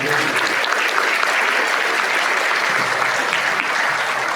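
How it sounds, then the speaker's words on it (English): An audience at a membership luncheon applauds a speaker, with a dense, loud burst of many hands clapping continuously for a few seconds. "Let's give John Garrett, Community Impact News, a round of applause."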